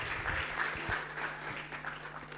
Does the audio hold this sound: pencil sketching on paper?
no